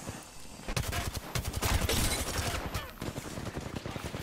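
Rapid bursts of Hemlock rifle gunfire in the video game Apex Legends, with repeated loud shots in quick volleys, some overlapping, over busy game noise.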